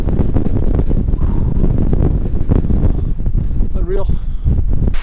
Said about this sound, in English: We decided it's too windy to stay here.